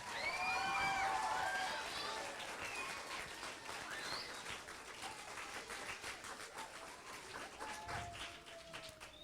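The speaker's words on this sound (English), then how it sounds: "can we give our audience a great big round of applause?" An audience applauds at an elementary school fifth grade graduation, sounding faint and roomy. The clapping swells early, then gradually thins out, with a few scattered voices and a stray bird chirp.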